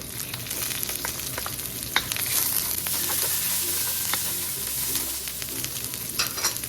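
Garlic and onion sautéing in a pan for chicken bopis give a steady, fairly soft sizzle and crackle, with occasional clicks of stirring scattered throughout and no voices.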